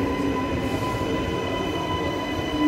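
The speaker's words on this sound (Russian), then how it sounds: "трамвай идет." Metro train rolling along an underground platform, a loud steady rumble of wheels on rail with sustained high squealing tones over it, close and continuous without talk.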